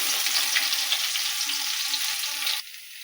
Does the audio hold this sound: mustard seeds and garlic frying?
yes